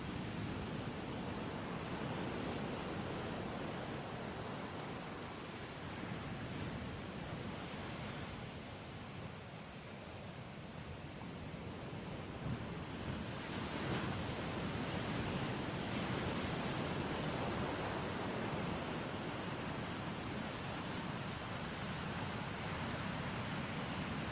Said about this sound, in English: just keep watching those ocean waves